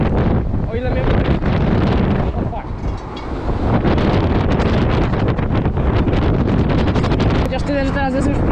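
Loud, blustery wind buffeting the microphone with constant rumbling roar, while a person speaks faintly underneath.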